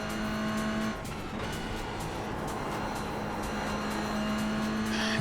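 Ferrari GT3 race car in iRacing accelerating through a left-hand corner at Spa, its engine a steady, loud, continuous drone with a sustained tonal whine, close and alone throughout.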